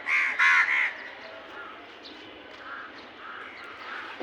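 Crows gathered at a feeding spot where pigeons also eat, giving a burst of loud, close caws at the start, then quieter calls from other birds over a low background.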